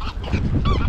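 A flock of ducks flies over open flatland, giving a quick series of loud, nasal honking calls at close range, with no talking.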